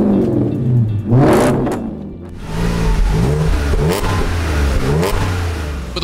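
A V8 engine in an Audi S5 revs hard and loud, its growling pitch climbing and falling through several bursts, with a brief lull before more throttle blips.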